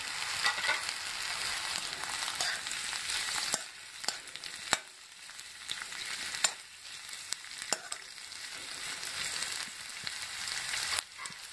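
Cauliflower and beans frying in a pan for veg biryani, a steady close sizzle with occasional sharp clinks and stirring scrapes, no talk.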